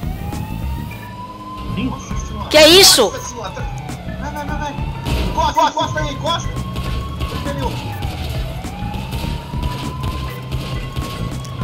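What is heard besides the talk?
police car siren in GTA V video game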